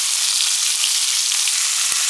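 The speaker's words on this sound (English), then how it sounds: "Very necessary to let it sizzle." Sweet and sour sauce with water chestnuts sizzling in a hot frying pan, a loud, steady hiss up close with a single small pop near the end.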